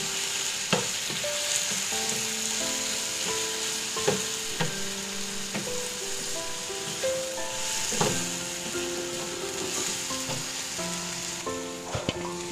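Chicken fries and sizzles in a pan while a spoon stirs it, scraping and knocking against the metal at irregular intervals over a steady close hiss, with no talking.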